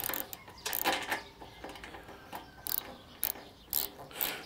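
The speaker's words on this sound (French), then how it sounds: "Tu peux prendre une clé à cliquer à œil aussi." A ratchet wrench with an 8 mm socket works bolts on a Yamaha MT-09 SP motorcycle during an airbox modification, giving repeated bursts of close metallic clicking at an uneven rhythm with no voices.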